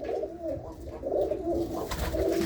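Pigeons cooing up close in a loft of racing pigeons, soft repeated low coos overlapping one another for a couple of seconds with no talk.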